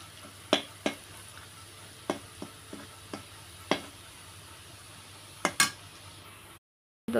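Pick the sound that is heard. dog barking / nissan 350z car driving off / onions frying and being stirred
onions frying and being stirred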